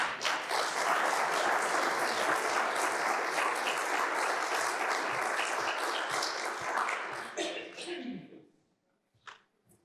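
A lecture audience applauds to welcome a speaker to a talk on race and Robinson Crusoe: dense, steady clapping from many hands lasts about eight seconds before quickly dying away, leaving a few scattered claps.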